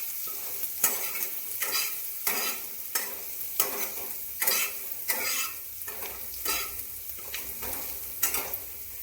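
Close-up frying of garlic paste in a pan for an egg omelette curry: a constant sizzle broken by regular, rhythmic spatula scrapes roughly every second, with no speech.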